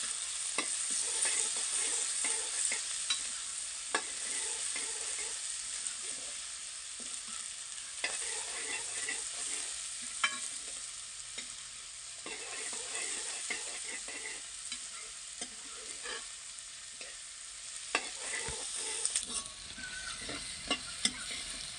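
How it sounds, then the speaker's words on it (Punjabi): Onions fry in a pan for dhaba-style kadhi, giving a continuous close sizzle with frequent clicks and scrapes of stirring, steady and moderately loud over the whole stretch with no speech. "ਪਿਆਜ਼ਾਂ ਨੂੰ ਆਪਾਂ ਚੰਗੀ ਤਰ੍ਹਾਂ ਫਰਾਈ ਕਰ ਲਵਾਂਗੇ ਬਰਾਊਨ ਹੁੰਦੇ ਤੱਕ ਪਕਾਵਾਂਗੇ"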